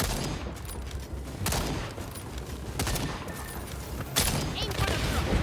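Rapid bursts of gunfire crackle in the shooter video game Second Extinction, dense and repeated over a busy background, with a voice talking over the shots.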